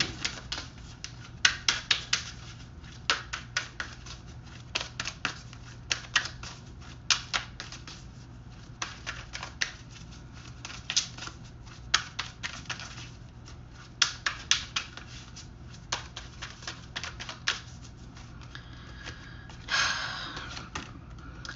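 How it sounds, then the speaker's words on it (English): Tarot oracle cards being handled and shuffled, a quiet run of crisp, rapid card flicks and taps coming in clustered bursts, close and alone with no talking. "Let me take out the Hidden Truth Oracle cards."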